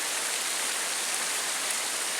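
Rainwater runoff trickles beside a hiking trail in the Catskills, a steady, close, hissing wash of water with no pauses and no voices.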